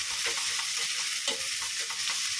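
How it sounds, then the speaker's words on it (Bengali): Onions frying in a pan with salt, a steady broadband sizzle with occasional soft stirring scrapes, close and continuous with no voices. "ভালো করে ভাজবো"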